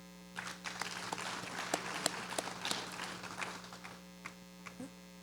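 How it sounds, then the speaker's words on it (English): Scattered audience applause at a cooperative's annual meeting, sparse individual claps standing out over a constant electrical hum, fairly faint and tapering into a few last claps. "let's give RDP a small round of applause"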